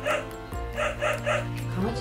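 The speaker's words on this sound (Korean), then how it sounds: "강아지 소리인데 아무 반응이 없어?" A recorded dog barks in a few quick, bright yips, evenly spaced, fairly close and clear over a faint musical tone.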